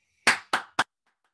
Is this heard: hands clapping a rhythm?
yes